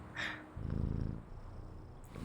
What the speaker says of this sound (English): The kikidin purrs contentedly as the now empty hands stroke it gently but confidently